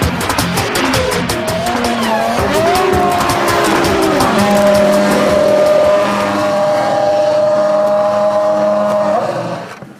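A 2004 Jordan Formula One race car engine runs on its first shakedown, loud and close, revving up and down in rising and falling sweeps before settling into a steady high drone that cuts off at the end.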